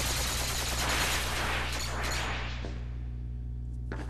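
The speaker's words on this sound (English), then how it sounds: "Someone just tried to shoot me." Gunfire in Kingdom Hearts II, a rapid rattling burst of shots that fades after a couple of seconds, leaving a low hum and a faint click.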